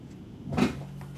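A front door opens with a short, soft creak and thump heard nearby in a quiet room, rising briefly and then fading.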